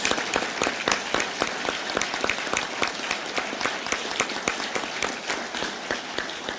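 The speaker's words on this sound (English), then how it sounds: "Please recognize them with a round of applause." A Rotary meeting audience applauds students, with distinct rhythmic hand claps repeating steadily at moderate volume and a few more scattered claps mixed in.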